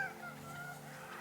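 A bird calls near the Rio Grande in the American Southwest, a faint, distant honking note heard over quiet open air, brief and alone without any talk.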